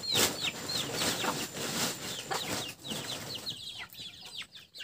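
Chickens cluck and chirp repeatedly in a farm setting, several birds making short, bright calls at varying distances, with a brief flutter of wings and faint background noise between the calls.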